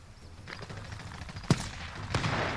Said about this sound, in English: where's that gunfire coming from?